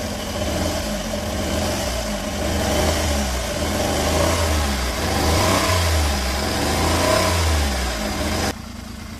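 A Suzuki DA64V with a K6A engine runs with a misfire, its uneven, lumpy engine note rising and falling in irregular pulses at close range, then dropping abruptly near the end; nobody talks.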